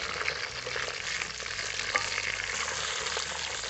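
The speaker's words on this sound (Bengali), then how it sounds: "মাছগুলোকে কিন্তু ভালো করে ভাজতে হবে" Fish heads fry in a pan for a Bengali pui shak chhechra, giving a steady close sizzle throughout with occasional crackles and stirring scrapes.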